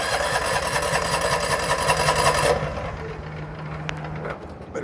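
A 1999 Kubota ARX 6500 generator engine runs with a steady buzzing drone that cuts to a lower, quieter rumble partway through, close and moderately loud.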